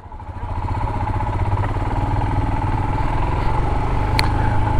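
A Royal Enfield Himalayan motorcycle engine rumbles and builds as the bike pulls away, a steady close-up throb rising slightly in loudness, with a brief sharp click near the end.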